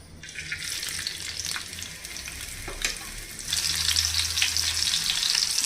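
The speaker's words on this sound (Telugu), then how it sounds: "మీడియం ఫ్లేమ్లో మనం ఫ్రై చేసేసుకుందాం." Korramenu fish frying over a medium flame in an iron pan: a steady, close crackling sizzle that thickens and grows louder partway through, with faint clinks and no talking.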